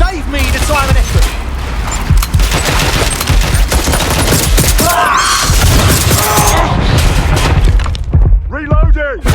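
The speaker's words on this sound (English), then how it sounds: "Shots fired!" Rapid bursts of gunfire crackle almost without pause in Watch Dogs Legion, loud and close, with sharp heavy shots layered over each other and a voice briefly heard near the end.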